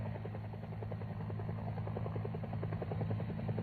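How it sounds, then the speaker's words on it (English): Military helicopter hovering low over treetops during a McGuire rig extraction, a steady loud rotor chop and engine drone throughout with fast rhythmic blade slaps, no talk. "Use the treetops to conceal your aircraft while hovering."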